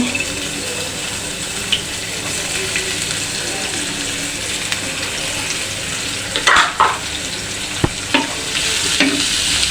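Chopped onions fry in a hot wok (kadai), a steady close sizzle running throughout, with a few sharp stirring scrapes and clinks of the spatula toward the end.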